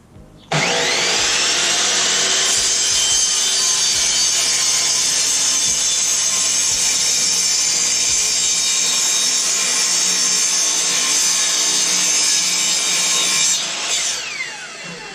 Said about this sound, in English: I'm just going to cut them on my miter saw to shorten them down to a coffee table height.